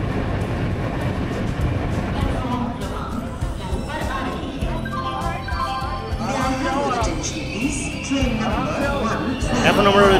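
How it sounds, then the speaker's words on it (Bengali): At a railway station in Bareilly, India, a train rumbles and clatters steadily through a busy platform with continuous crowd chatter and voices throughout. "এখন আমরা রয়েছি বারেলি স্টেশনে।"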